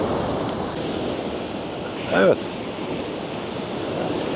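Rough Black Sea surf breaks on the shore at İğneada as a steady, loud roar mixed with wind buffeting the microphone. A voice briefly speaks a single word partway through.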